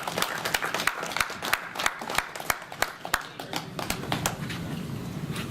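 Clapping from the audience at a boxing press conference with Hopkins and Murat, sparse and uneven individual claps that come in loose irregular bursts, fairly close, with murmuring in the room.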